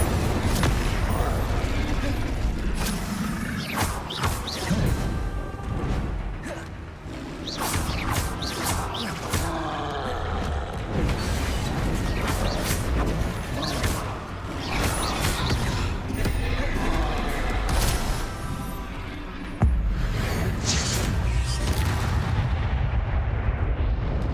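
Bombarda and Incendio spell blasts in the Hogwarts Legacy video game: a rapid series of loud, close booming bursts and crackling impacts, almost constant, with a voice calling out over the combat.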